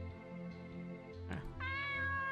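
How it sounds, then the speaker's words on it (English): A cat in the indie game Lucidity gives a short meow, close and clear, rising into a higher drawn-out cry near the end with a steady background hum beneath it. "Oh, there's a cat."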